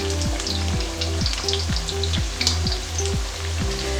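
Onion and potato bhajis fry in a pan of hot oil with a steady, close sizzle and rhythmic bubbling pops, with no talking over it.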